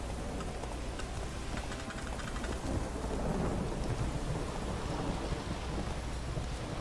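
Steady heavy rain with rolling thunder rumbling through a stormy swamp in Velen in The Witcher 3, a continuous dense downpour with deep low rumbles swelling midway, no talking.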